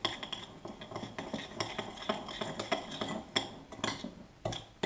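Softened butter being mixed in a bowl, with a steady run of scraping, clinking utensil strokes against the bowl, close and moderately loud.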